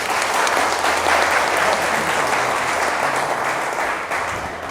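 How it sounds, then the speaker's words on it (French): A packed hall at a PDCI-RDA political meeting in Arrah breaks into loud, sustained applause, a thick even wash of clapping that eases off slightly toward the end. "vous pouvez vous acclamer"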